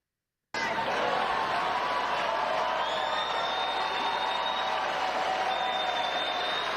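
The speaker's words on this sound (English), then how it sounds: "Look at these idiots applauding." Dense audience applause and cheering at a political speech, a continuous wash of clapping that starts abruptly and holds steady, with faint shouts and a whistle-like tone above it.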